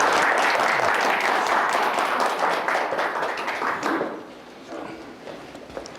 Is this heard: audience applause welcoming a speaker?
yes